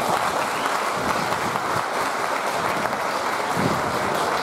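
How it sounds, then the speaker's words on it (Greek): A large crowd at a political rally in Oichalia applauds steadily, dense and sustained clapping that fills the space evenly from start to finish without a break. "τώρα θα με χειροκροτήσετε"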